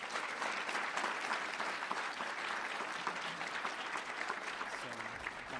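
Audience at a closing session of the UIST 2022 conference applauds the presentations, demos and posters, a dense, steady wash of clapping from a large room lasting the whole stretch with no voices on top.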